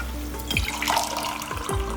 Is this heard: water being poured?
yes